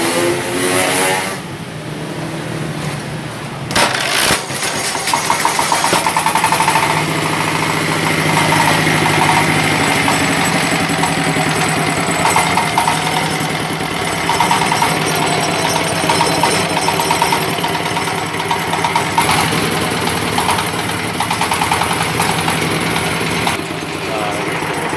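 A diesel engine pull-started by recoil starter runs while driving a plastic shredder, with an initial rattle of starting followed by a loud, steady close engine chug; voices speak briefly at times.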